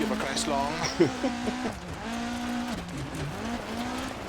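A rally car in DiRT Rally 2.0 races a Finland stage, its engine revving up and down through gear shifts with a brief tire skid, while someone talks over the steady drone.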